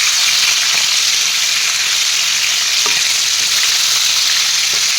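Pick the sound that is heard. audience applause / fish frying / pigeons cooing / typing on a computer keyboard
fish frying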